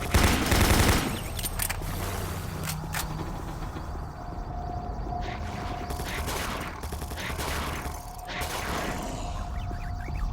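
Rapid automatic gunfire from the player's own turret in the first-person shooter Doom 3, a dense mechanical burst at the start, then continuous mechanical whirring and clattering game noise with scattered bursts.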